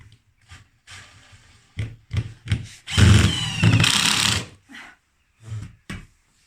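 A power screwdriver drives a screw into a wooden farmhouse-style shelf in one whirring burst of a second or two, set between short clunks and handling knocks.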